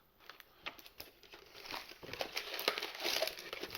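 Shadowverse trading card pack wrappers crinkle and crumple close by, quiet at first, then building into denser, busier rustling with no speech.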